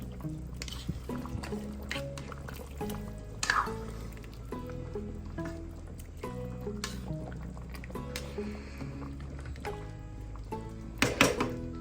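A spoon gently stirs beef bulalo soup in a pot, making soft liquid sloshes, drips and occasional light clinks against the pot, close and moderately quiet.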